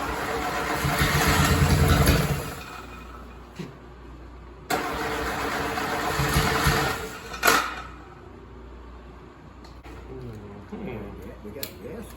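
An overhauled Willys flathead engine cranks and catches in two loud bursts of starting and running, each dying back down, followed by a quieter stretch with voices talking nearby.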